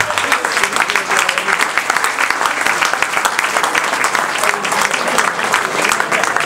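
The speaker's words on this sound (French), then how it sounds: "je vous demande d'applaudir bien fort Kabir, qui va venir avec nous." A crowd at a post-match gathering gives strong, dense applause that keeps going without a break. Many hands clap loudly and close, with voices faintly mixed in underneath.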